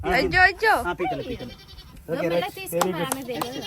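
A goat bleats loudly several times in quick wavering cries, close by, with people talking around it in a lively household setting.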